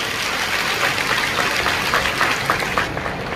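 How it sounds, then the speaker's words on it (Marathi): Audience applause at a public welfare event in Parbhani, a broad steady wash of clapping from many hands, fairly loud and continuous with no clear speech over it. "आपण सर्वांनी मिळून एकदा तटकरे ताईसाठी जोरात टाळ्या वाजवलं"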